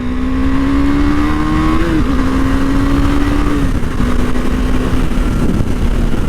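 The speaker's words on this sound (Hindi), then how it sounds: "भाई बाइक ऐसे भाग रही है, मतलब एक इशारे पे ही बाइक बोल रही है कि भाई मुझे एक्सेलरेट करो।" A 2021 KTM Duke 390 BS6 motorcycle accelerates hard with a loud, close, steady engine drone whose pitch climbs, dips briefly at gear changes, then climbs again, with no one talking.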